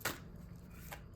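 Tarot cards being shuffled and drawn: one quick riffle of cards up close, followed by a faint second flick, quiet and brief.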